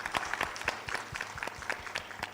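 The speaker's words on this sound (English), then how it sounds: "So one final round of applause for both our panelists" Audience clapping for two panelists at the end of a conference session in an auditorium, distinct individual claps in a fairly sparse, steady round, moderately distant and soft.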